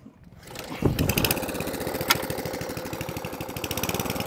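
Atco Balmoral cylinder lawnmower engine cranked without choke: a brief pull near the start, then the motor catches and chugs in a steady rapid putter, fairly close and moderately loud, with a sharp click partway through.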